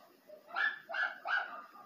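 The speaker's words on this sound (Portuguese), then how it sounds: "Não late, não!" A dog barks three times in quick succession, loud and close, with a faint voice underneath.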